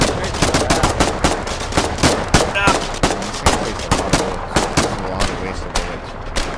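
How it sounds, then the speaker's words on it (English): Rapid, loud bursts of gunfire in the war game Foxhole, rattling almost continuously like machine-gun fire at close range, with voices shouting over the shots. "Shoot it, just shoot it."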